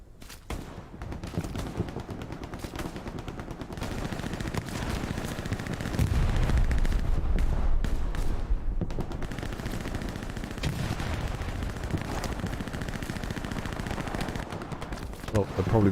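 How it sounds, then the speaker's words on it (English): Sustained machine gun fire in Hell Let Loose, rapid rattling bursts with distant booms layered in a loud, continuous battlefield din, with people talking underneath. "down there firing MG shots"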